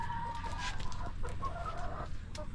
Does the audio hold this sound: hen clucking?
yes